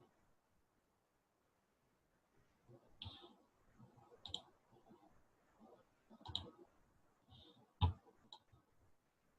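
Mouse clicks on a web page, a few sharp isolated ticks spaced a second or more apart, with one louder click near the end, over faint background rustle and no talking.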